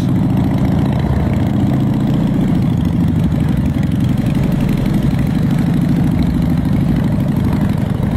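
A vehicle engine revs steadily and loudly as it pushes through fast-flowing floodwater, with a continuous heavy drone and rushing water filling the whole stretch, no talk over it.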